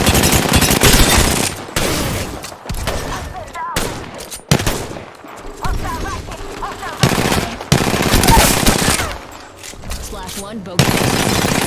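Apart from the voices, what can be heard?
gunfire in a shooter video game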